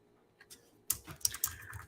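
A computer keyboard is tapped in short bursts after a near-silent start, with several crisp, close keystrokes clustered in quick succession.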